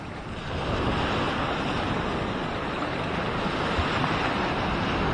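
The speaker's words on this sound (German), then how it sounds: "Wir haben 24 Grad und wir haben richtig schöne Wellen." Roaring surf of about two-metre waves at Maspalomas beach, Gran Canaria, near the lighthouse, forming a loud, continuous wash with wind buffeting the microphone.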